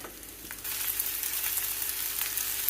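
Sliced leek hits hot oil in a pan and sizzles, a soft hiss that jumps louder and stays steady and bright, close up and with no one talking.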